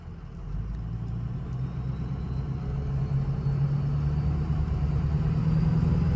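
A diesel Ford Excursion 4WD SUV engine runs at a steady low rumble at the start of a test drive, heard from inside, gradually growing slightly louder with no talk.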